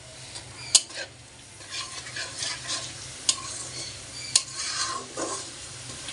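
Vegetables being stirred and sautéed in a frying pan, with a steady sizzle under repeated scraping and stirring strokes and a few sharp clinks of the utensil against the pan, close by, with no talking.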